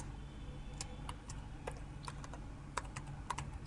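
Soft, irregular clicks of a computer keyboard as C code is typed, individual keystrokes scattered in a quiet room with no voices.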